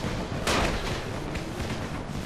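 Bombs blowing up in the zombie game Dying Light, a dense rumbling burst of blasts with one sharp, loud crack near the start over a constant roar, without talking.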